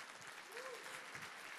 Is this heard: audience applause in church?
yes